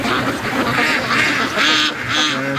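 Free-range ducks grazing on grass before rushing to a lake quack repeatedly in a loud, overlapping chorus, close by and continuous.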